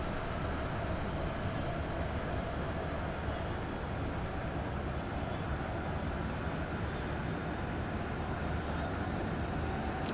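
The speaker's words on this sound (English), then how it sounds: "So it made us wait there all that time just for an ice train to come through" ICE high-speed train passing on the Munich to Augsburg line in Train Sim World 2, a loud, steady broadband roar and rumble that stays close and constant throughout, with no talk.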